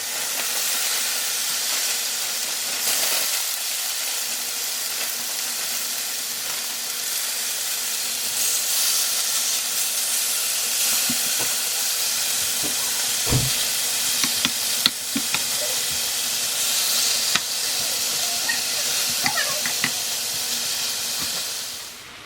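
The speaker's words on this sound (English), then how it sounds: "I have avocado oil on my griddle here just getting nice and hot. And I'm going to throw all the meat and veggies and saute them up." Steak and vegetables sautéing in hot avocado oil on a griddle for fajitas, a loud steady sizzle and hiss that runs the whole time, with occasional scrapes and stirring clatter and no talking.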